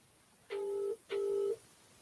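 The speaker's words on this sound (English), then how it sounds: "Let's phone him up." Telephone dialing tones, two steady beeps of about half a second each separated by a short gap, clear and close with no talking.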